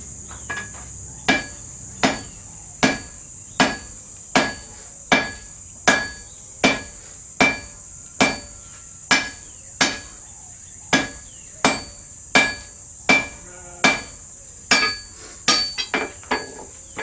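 A hammer strikes a heated steel sword blade on an anvil, about twenty sharp ringing blows at a steady, roughly one-per-second rhythm, ending in a quick flurry of lighter taps, close and loud over a constant high hiss.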